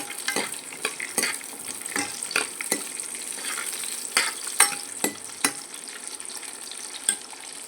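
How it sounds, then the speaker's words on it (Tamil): Onions being stirred and sautéed in a pan, with a steady sizzle of frying broken by repeated sharp scrapes and clacks of the spoon against the pan, close and fairly loud, no talking. "இப்போ வெங்காயம் நல்லா வதங்கிடுச்சு."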